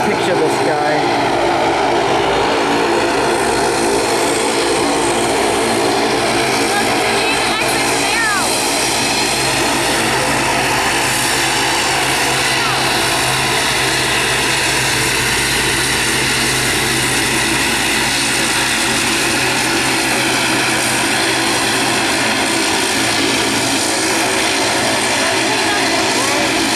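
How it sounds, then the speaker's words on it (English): An airplane takes off at Buffalo airport at night, its engine drone loud and sustained and building slowly as it powers down the runway nearby, with a steady roar throughout. "he's gonna take off right in front of us"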